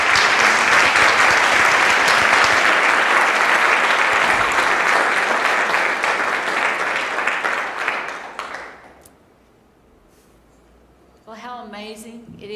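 An audience applauds to welcome speaker Christine Day, a loud, dense wash of clapping that holds for about eight seconds and then fades out. After a brief pause, a single voice begins speaking.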